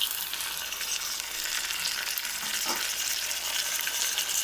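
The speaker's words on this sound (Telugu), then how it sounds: "ఇప్పుడు ఈ టమాటోస్ కూడా వేసేసుకుందాము" Tomatoes hit a hot frying pan already holding onions and green chillies, giving a loud, steady, close sizzle that hisses on without pause, with a brief stirring scrape near the end.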